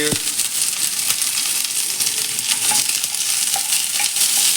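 Dried red chillies and curry leaves frying in hot oil for poricha rasam, a steady dense sizzle and crackle close by, with faint stirring clicks and no talking.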